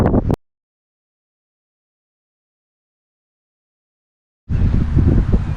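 Wind buffeting a GoPro Hero 8 camera with wind reduction turned off: loud, rough rumbling bursts at the start and end, separated by a long silent gap.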